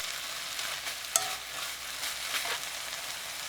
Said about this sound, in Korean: 쌀뜨물 30ml 넣고 1분 볶아주세요.